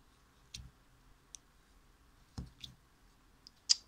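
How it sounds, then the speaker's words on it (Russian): Slime squeezed by hand gives off a few sharp, separate clicks and pops, spaced irregularly across a quiet background, with no talking. "смотрите, он кликает просто приятно."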